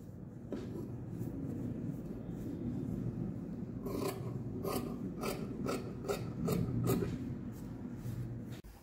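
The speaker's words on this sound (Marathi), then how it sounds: "आणि हे जे आता एक्स्ट्रा आहे ना, हे आपल्याला कापून टाकायचं।" Scissors snip away the extra fabric on a fish-design quilt, a run of short, crisp cutting and rasping strokes over a faint background hum, fairly quiet and close.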